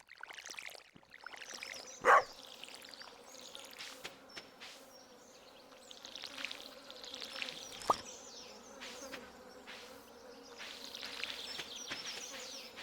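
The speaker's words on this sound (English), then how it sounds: "I hear a fly and it's driving me bonkers." A housefly buzzing indoors, droning in and out close to the microphone over a quiet room, with a sharp knock and a click partway through.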